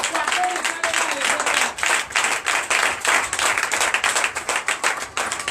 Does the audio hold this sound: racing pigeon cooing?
no